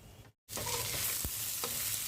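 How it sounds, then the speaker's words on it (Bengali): Chickpeas fry in a pan for an iftar meal, giving a short burst of close, hissing sizzle after a brief silent gap, with a couple of stirring scrapes. "বুট ভেজে নিচ্ছি ইফতারির জন্য অল্প করে"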